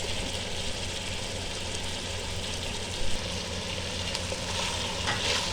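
Potatoes and a medium onion fry in a pan with a steady, even sizzle that holds at a fairly quiet level, with a brief louder crackle near the middle and no voices.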